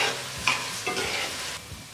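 Rice stirred and sizzling in a hot pan for burritos, with a steady frying hiss and a few scraping strokes of the spoon recurring through the clip, close and fairly loud, no talking.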